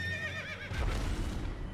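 A horse in the video game Elden Ring lets out a loud, wavering whinny, followed by a brief burst of snorting and hoof clatter, heard up close.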